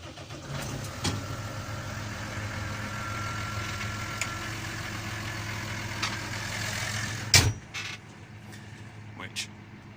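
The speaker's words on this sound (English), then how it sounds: "then we start up the tractor" A New Holland T7000 tractor engine runs at a steady, close idle with a low continuous hum, interrupted by a sharp clunk and a few knocks near the end.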